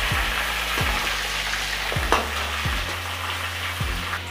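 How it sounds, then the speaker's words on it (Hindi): Chicken sizzles loudly in a hot pan while a spoon scrapes and stirs it at regular intervals, roughly every second, as it browns for biryani. The frying is close and continuous, and there is no talking. "इस चिकन को अच्छी तरीके से इसमें भून लेंगे"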